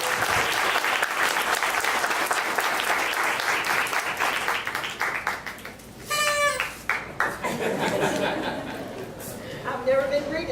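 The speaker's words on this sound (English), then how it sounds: "Big round of applause now" Audience applause fills a lecture hall at a history talk, a dense steady wash of many hands clapping that thins toward the end as a few voices and chatter rise underneath.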